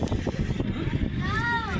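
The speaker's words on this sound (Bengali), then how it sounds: "অনেকটা বাতাস।" Strong wind blowing across the open-air observation deck on the 90th floor of Melbourne's Eureka Skydeck, a steady, rumbling buffet without pause.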